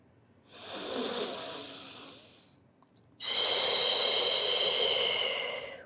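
Two long, deliberate breaths during a Pilates with weights workout, heard close and fairly loud, each a drawn-out airy rush separated by a short pause, with no talk.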